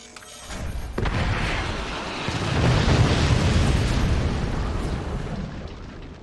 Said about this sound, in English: The anti-air for Cronkinator did defend the rocket salvo this time around